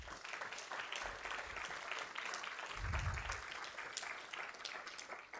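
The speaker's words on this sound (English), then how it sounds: "Please join me in a round of applause for our author tonight," An audience gives sustained, even applause for author Lord Peter Hain at an evening book talk on his memoir, a dense wash of many hands clapping that holds steady, heard from a modest distance.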